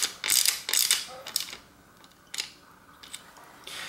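A tool tightens the derailleur on a Specialized Hardrock mountain bike in a series of short, crisp metallic clicks and ratcheting scrapes, several quick bursts then sparser ticks, close and quiet.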